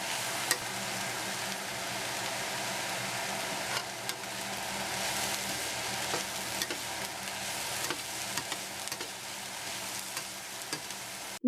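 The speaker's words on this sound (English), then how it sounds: "Cooking and stirring for another 2 to 3 minutes or until the vegetables start to soften." Chicken and vegetables, including diced yellow squash, stir-frying in a pan for a spicy chili garlic dish, giving a steady, close sizzle with occasional faint clinks of stirring, no voices.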